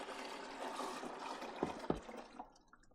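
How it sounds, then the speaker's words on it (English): Cooled brine poured from a container into a large pot holding a spatchcocked turkey, a steady close liquid rush with two sharp splashes near the end before it tapers off. "Add the brine in here like this. Oh, splashes everywhere."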